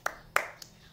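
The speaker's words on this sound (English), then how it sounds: "give applause for us" Brief applause from young learners in an English classroom: two sharp clap bursts followed by a fainter third, close by and short, with no talking.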